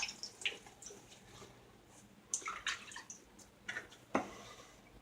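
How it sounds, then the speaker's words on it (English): Water splashes in scattered, faint bursts as a face is rinsed clean after shaving lather, with irregular drips and splashes over a quiet background. "All right, wash the face off."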